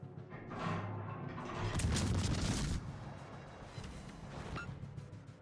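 Battleship main guns fire and shells land around the player's ship in World of Warships, giving a loud rolling boom that swells and sustains for a couple of seconds before fading into lower rumble, then a sharp crack.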